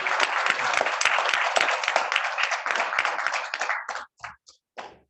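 Audience applause at a Kiwanis club meeting, a dense, steady wash of clapping that thins out and breaks into a few last scattered claps before stopping.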